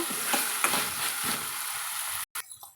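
Vegetables fry in oil in a pan with a steady sizzle and repeated stirring scrapes, then the sound cuts out briefly and returns at a lower level.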